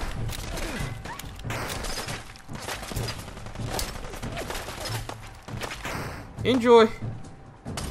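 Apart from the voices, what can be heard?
gunfire from the video game Fallout 4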